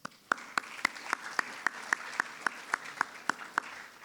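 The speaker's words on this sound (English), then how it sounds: "So a round of applause to you guys." A few people at a spring varsity sports awards event clap for the athletes, a sparse, fairly quiet round of distinct claps in a steady rhythm roughly every quarter second, with no talking.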